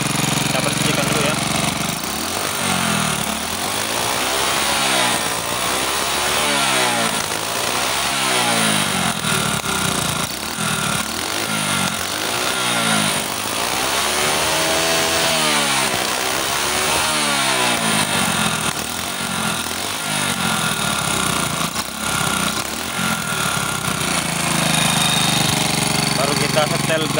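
Motorcycle engine revved repeatedly to clear out black smoke, a loud continuous buzzing drone with rhythmic rising and falling rev sweeps throughout.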